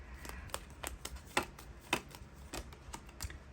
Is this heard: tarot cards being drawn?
yes